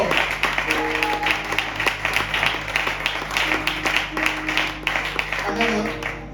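Audience applause at a youth convention gathering, dense clapping that runs continuously and fairly loud over a steady hum, with scattered voices and short tonal sounds mixed in.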